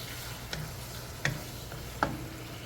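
Chicken browning in a pan for chopsuey, a soft steady sizzle under three sharp clinks of a utensil against the pan spaced about a second apart, close and moderately quiet.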